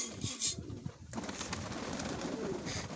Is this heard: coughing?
no